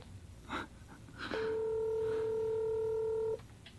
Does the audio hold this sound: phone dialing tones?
yes